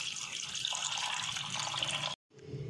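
Milk poured into a sabudana drink, a continuous close splashing stream that cuts off abruptly, followed by a short trickle.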